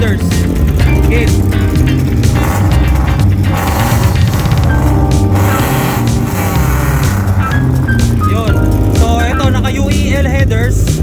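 A Toyota Vios 1.3 engine fitted with UEL headers and a straight pipe, idling and revving with a rough, loud, continuous exhaust rumble close by, while someone talks over it.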